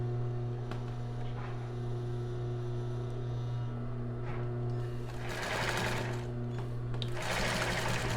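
A sewing machine backstitches to start and finish a seam on a crossover bra, a close, continuous motor hum with a steady whirring stitch and bursts of brighter rattling toward the end.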